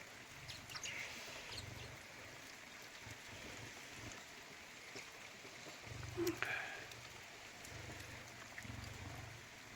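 Steady, soft rain patters down in Uttarakhand during an afternoon change of weather, a faint continuous wash with occasional birds and a brief louder knock partway through.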